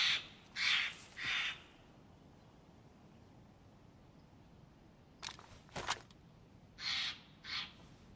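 Crows in the DayZ game world caw loudly nearby in short bursts: a cluster of three calls, a pause, then a few sharper caws and two more calls, with no talk over them.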